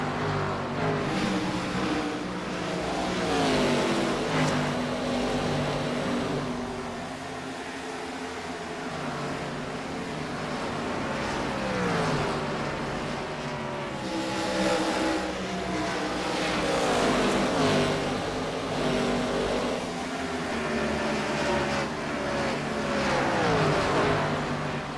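IROC race cars in a race at Iowa, engines roaring past in repeated waves of rising and falling pitch, loud and sustained with several cars passing close, no talk.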